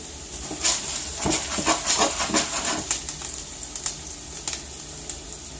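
Steady sizzling and crackling of onions frying in olive oil in a pan, with irregular pops and spits over a constant hiss, close up.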